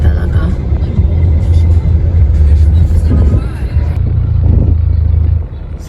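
Heavy, congested city road traffic in the Philippines, with cars passing close by, recorded from inside a car while driving. A steady, loud low rumble of engines runs throughout, with a couple of swells as vehicles go by.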